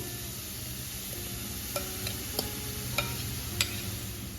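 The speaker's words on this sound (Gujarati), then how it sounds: "હવે આપણે જે ગાજર છે, કોબીઝ છે, કેપ્સિકમ છે, ઓનિયન છે, એને ઝીણો ચોપ કરેલો હતો તે આપણે એડ કરી દઈશું" Finely chopped carrot, cabbage, capsicum and onion sautéing in a pan for momo filling: a steady soft sizzle with occasional light ticks of a spoon stirring against the pan.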